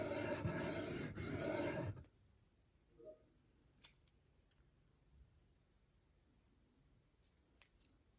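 Knife rasping loudly across a coarse 600 grit stone on an inexpensive guided sharpening system, a steady scratching burst lasting about two seconds, then near silence broken by a few small clicks and taps.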